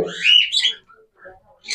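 Pet birds calling at a pigeon loft: a short burst of bright chirps and tweets up close, followed by a few softer calls and another quick chirp at the end.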